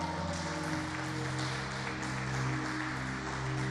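Congregation applauding at a Brazilian evangelical church service, a steady wash of clapping that fills the room throughout, with music playing underneath.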